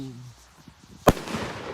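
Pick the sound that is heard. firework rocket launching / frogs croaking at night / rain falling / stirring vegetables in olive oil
firework rocket launching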